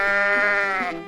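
A single goat bleats, a loud, close, wavering cry lasting about a second on its own.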